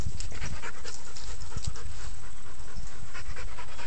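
At a large dog park, a dog pants rapidly and heavily right up close, a steady breathy rhythm running throughout against rough outdoor noise.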